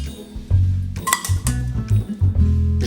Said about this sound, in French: Je vais alors les mettre dans une casserole.